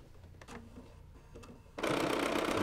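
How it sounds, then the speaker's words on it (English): A sewing machine stitches the binding on a quilt corner with a stitch-in-the-ditch foot. A few soft clicks and handling sounds come first, then the motor starts and hums steadily, close and fairly loud, until the end. "And just sew off that corner."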